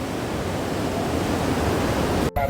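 Hot spring water pours into a bathing pool at the Badrinath temple area, a loud, steady, dense rushing wash that fills the whole clip, briefly cut by a short dropout near the end.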